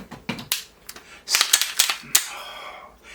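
Slide of a Staccato C2 pistol, fitted with an Atlas trigger, being cycled by hand: a run of sharp metallic clacks and clicks, close up, in quick irregular bursts.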